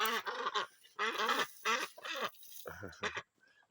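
Ducks quack loudly and close by in a rapid series of harsh, nasal calls, broken by short pauses and heard on their own without talk.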